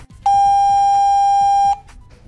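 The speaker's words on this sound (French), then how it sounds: "Le clavier confirme par un bip long." A Diagral alarm keypad gives a single long confirmation beep, loud and steady for about a second and a half, with faint clicks before and after.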